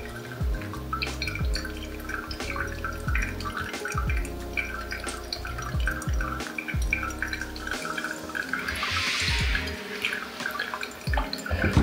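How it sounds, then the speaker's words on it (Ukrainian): Hot water dripping through coffee grounds in a pour-over brewer, a close, steady patter of irregular drips and trickles into the vessel below, with no voices. "тепер чекаємо до 3 хвилин, як стече вся водичка, і у нас буде кава готова"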